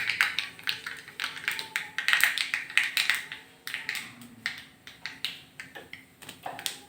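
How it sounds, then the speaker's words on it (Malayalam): Mustard seeds popping in hot oil while cooking a tamarind dish, a close run of small sharp crackles and pops coming in irregular quick bursts over a faint background hum. "അത് കടുക് പൊട്ടി വരുന്നുണ്ട്"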